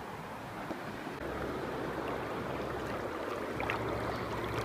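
River water flows in a continuous broadband rush on a sunny day, close and steady, growing slightly fuller partway through, with no talking.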